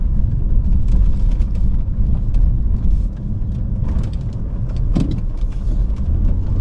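A 2015 Volvo S80 T6 Platinum rolls over a rough, bumpy road at about 20 mph, giving a loud, steady cabin rumble of road and engine noise with a few dull thumps from the suspension, no talk.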